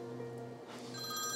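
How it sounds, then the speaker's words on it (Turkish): A telephone rings indoors during a Turkish TV drama scene, giving a steady, fairly faint electronic ring with no talk over it. "Ben bu telefonu açmazsam yengeniz de beni açar."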